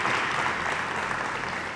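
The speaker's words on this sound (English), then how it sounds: "So I would like if all of you can give a round of applause to the Interact Club of" A crowd gives a round of applause at a school Interact Club installation ceremony, with dense, even clapping from many hands that holds steady throughout.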